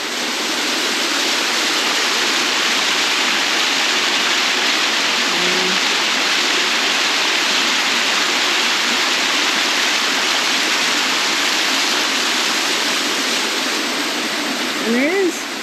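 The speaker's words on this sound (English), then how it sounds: "Rattlesnake Falls." Loud, steady rushing roar of Rattlesnake Falls waterfall in State Game Lands 221, a continuous close wash of falling water with a faint brief whistle-like tone near the end.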